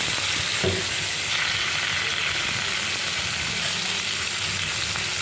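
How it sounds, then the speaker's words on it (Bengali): Eggplant frying in fish oil hisses with a dense, even sizzle up close, broken by a brief knock of stirring near the start, then settling into continuous frying noise. "আমি মাছের তেলে বেগুন পাতা ভেজে নেব বেগুন দিয়ে দিলাম ভালো করে নেড়ে ফেলে নিই"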